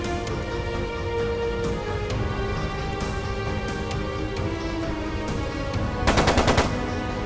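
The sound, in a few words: machine gun fire in video game Trails of Cold Steel 2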